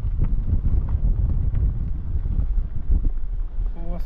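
Wind rushes through the open window of an electric car driving uphill on a South Australian coastal road, a heavy, steady low buffeting roar that fills the whole clip and is loud and close.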